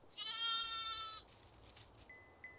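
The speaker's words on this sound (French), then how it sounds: "Mais la brebis va chercher son premier agneau dans la roulotte de Poulou" A ewe bleats loudly and close for about a second, a wavering harmonic cry, followed by fainter calls against soft background noise.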